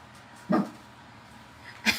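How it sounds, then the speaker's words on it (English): A dog gives two short barks at the mailman out front, about a second apart, moderately close, with a quiet background between them. "so Archie is barking at the mailman."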